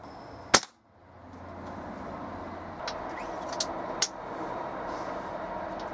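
A Weihrauch HW97 spring air rifle with a replaced spring fires one sharp, loud shot near the start, followed by a low, steady background with a couple of faint clicks.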